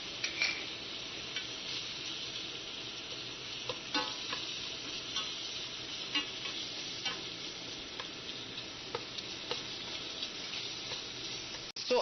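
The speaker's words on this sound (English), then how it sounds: "So as your beef cooks" Beef frying in a pan with masala spices, a steady close sizzle with scattered crackles and a few stirring clicks, no voices.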